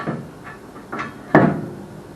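A Dodge wheel rotor with freshly repacked new bearings slides onto the spindle, giving a few soft scraping shuffles followed by one sharper metallic clunk as it seats, close and fairly quiet.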